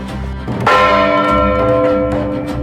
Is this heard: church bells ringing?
yes